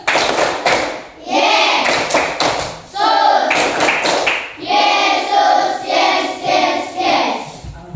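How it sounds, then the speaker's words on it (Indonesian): A classroom of children performs the 'tepuk Yesus' clapping chant at the start of a Christian religion lesson, with rhythmic bursts of hand claps and thumps mixed with sung chanting voices, loud and close, in several phrases. "Kita tepuk Yesus dulu. Yuk, tepuk Yesus."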